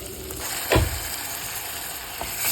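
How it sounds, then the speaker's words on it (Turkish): Chopped vegetables fry with tomato paste in a hot pan, giving a continuous close sizzle with a brief louder scrape or stir partway through. "Biraz salça ekleyeceğim. Salçayla güzelce kavurayım."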